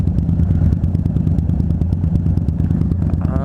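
A Harley-Davidson Dyna Street Bob motorcycle rides through Ocean Beach, its engine thumping loud and steady up close, with a rhythmic low pulse and rattle throughout.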